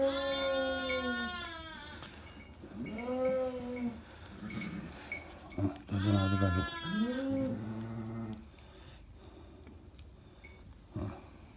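Newborn twin lambs bleat loudly nearby on a farm, several drawn-out wavering calls in turn with short pauses between them.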